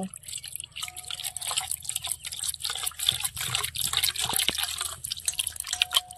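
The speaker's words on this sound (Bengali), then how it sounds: "এর মধ্যে জল দেব" Water trickles and drips into a bowl of ground ginger, bay leaf and betel leaf paste, a thin steady pour with small splashes, close by and alone.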